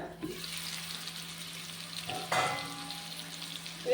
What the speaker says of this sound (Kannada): ಈ ಥರ ಇನ್ನೂ ಸ್ವಲ್ಪ ಫ್ರೈ ಆಗಲಿ